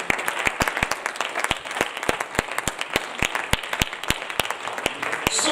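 Congregation at a French-language church service clapping, a steady run of sharp, evenly spaced claps like rhythmic worship clapping, close and moderately loud with no speech over it.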